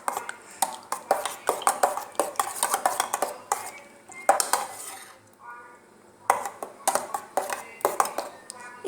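Ice and liquid of a faluda drink stirred in a container, with repeated clinking of a spoon against the sides in quick bursts, pausing briefly before the stirring resumes, close and fairly loud.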